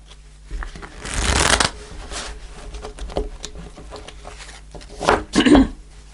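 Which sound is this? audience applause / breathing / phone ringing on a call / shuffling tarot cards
shuffling tarot cards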